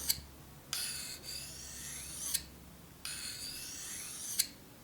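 Two long rasping strokes of a knife drawn across a sharpening stone, even and unhurried, each ending with a sharp scrape, recorded close.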